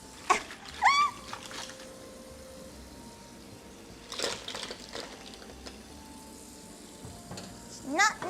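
Liquid poured out into a kitchen sink during a seafood boil, a steady splashing hiss with brief clatters and sizzle-like bursts, close and moderately loud, no talk.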